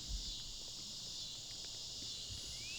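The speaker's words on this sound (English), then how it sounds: "As you hear those crickets" Crickets chirp in a steady, continuous high-pitched drone on a disc golf course, evenly spread across the stretch with faint rustling underneath.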